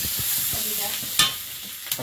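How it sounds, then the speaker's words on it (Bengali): Chopped onions fry in oil tempered with panch phoron, a steady close sizzle with a few louder stirring scrapes near the end. "একটু 5 ফোড়ন তেলে পেঁয়াজ কুচি সবটা চাপাবো আগে"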